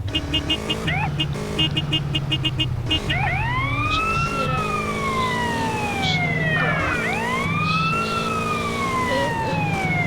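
A police motorcycle siren in the MTA video game wails loud and close, first pulsing in quick bursts, then sweeping up and down in long rising and falling tones over engine rumble.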